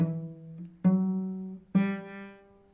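Three bowed cello notes with good tone from a beginner player, each starting with a firm attack and then ringing on with rich, sustained harmonics, close and clear with no voices.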